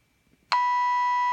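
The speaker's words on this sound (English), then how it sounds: "Then you get an error message, a beep, and it clears the display." An error beep from the keypad of a Mico ePore prototype, a single steady electronic tone that starts abruptly and holds loud and clean after a moment of near silence.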